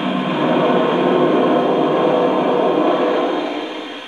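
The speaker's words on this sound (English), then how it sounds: "And then the blowdown's really cool." A Lionel 746 J Class model steam locomotive's blowdown sound effect: loud continuous blast of venting steam, a broad roaring hiss that holds steady and then tapers off toward the end.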